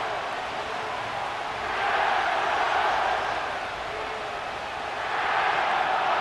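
Stadium crowd from Madden NFL 25 at SoFi Stadium in Inglewood roars in a broad, steady wash of cheering that swells and eases, with no one talking over it.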